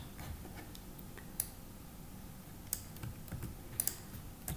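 A computer keyboard is typed on in quiet, scattered keystrokes, a few sharp clicks spaced irregularly over a low room hush.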